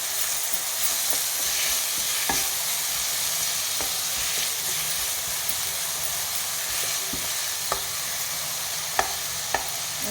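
Onions sauté and brown in hot oil in a pan. A continuous loud sizzle runs throughout, with scattered scraping clicks as a spoon stirs them now and then.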